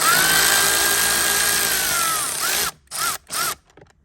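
Power tool running steadily as it backs out a 14mm seat belt bolt on an Acura NSX, a loud continuous whir that then breaks into two short bursts before stopping.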